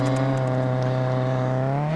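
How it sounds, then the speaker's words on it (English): Loud, close engine drone from a car in the survival game SCUM, holding a steady buzzy rev with rich harmonics and rising slightly in pitch near the end. "It generally sounds like a derby car."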